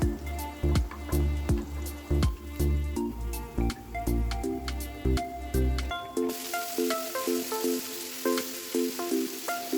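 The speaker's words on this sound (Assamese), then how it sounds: "খুতৰা শাক ভাজিম। এনেই নৰ্মেলকৈ আৰু আপোনাৰ এই নহৰু আৰু পিঁয়াজ দি" Khutura greens fry in a pan with garlic and onion, a close sizzle broken by rhythmic stirring scrapes and taps, settling toward the end into a steadier, hissing fry.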